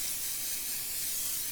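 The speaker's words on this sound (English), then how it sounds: "Spray your edges." Cooking spray hisses from a can into a small bread pan for a cake, one steady close spray lasting over a second with no talk.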